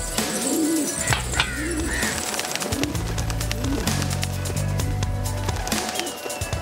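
Soft, repeated pigeon coos in a low rolling rhythm from a rooftop flock in Pakistan, with scattered chirps and background clatter.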